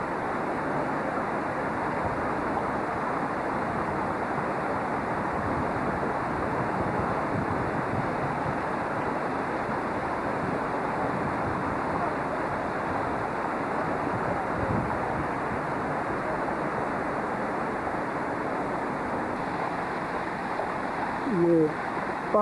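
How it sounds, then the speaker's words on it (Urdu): Water flowing beneath the Turkmenbashi mausoleum statue in Ashgabat, a steady broadband rush like a fountain or stream that stays even and continuous throughout, with wind buffeting the microphone. "یہ پانی بہنے کی آواز آ رہی ہے یہاں ترکمان باشی کے مزار"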